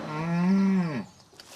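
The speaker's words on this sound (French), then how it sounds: "Les vaches repartent pour une nouvelle séance de traite." On a dairy farm, a single cow gives one long, full moo close by. It holds steady, then dips and fades into quiet barn ambience.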